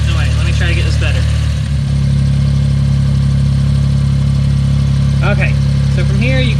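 Small car engine idling steadily under a timing check, loud and close, with a voice talking over it and a brief dip as the revs shift.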